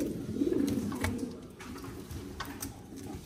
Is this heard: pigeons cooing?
yes